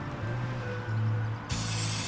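Aerosol spray hisses in short bursts into the air intake of a narrowboat engine, close and loud, ending with a stronger sustained blast against a low engine-room hum.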